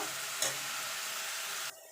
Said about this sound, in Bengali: এবার এইটাকে একটুখানি নাড়াচাড়া করে নেব।